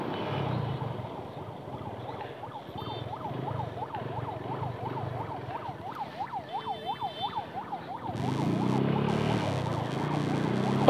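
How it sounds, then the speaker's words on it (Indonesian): An ambulance siren wails in repeated rising-and-falling sweeps through a traffic jam, heard from a motorcycle amid steady engine and road noise that grows louder near the end. "Tadi di belakang saya ada ambulan."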